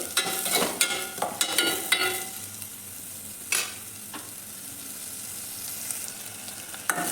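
Onions fry in a pan for egg sambar, a soft continuous sizzle under repeated close scraping and stirring clatters in the first few seconds, then one louder knock before the sizzle carries on quietly alone.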